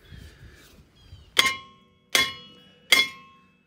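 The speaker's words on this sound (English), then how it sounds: "Gonna need a nice hammer." Three loud, ringing metallic clangs from a hammer striking a brake rotor on a 2006 Lincoln Town Car, evenly spaced about three-quarters of a second apart, each with a short bright ring.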